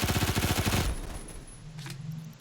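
An MP5K submachine gun fires a rapid burst in a video game, loud and close, with fast evenly spaced shots for under a second before stopping and leaving faint background noise.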